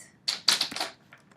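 A short quick burst of keystrokes clatters on a computer keyboard, close and crisp, followed by a couple of fainter taps.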